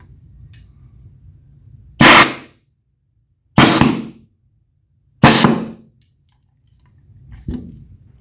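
A 1975 Logan's Run DS movie prop gun fires four sharp, loud shots spaced about one and a half seconds apart, each one decaying quickly, the last one softer.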